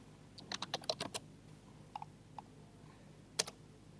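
Computer keyboard being typed on while a SQL database query is written, giving quick bursts of close, crisp key clicks, then a few scattered single taps and one sharp final keystroke.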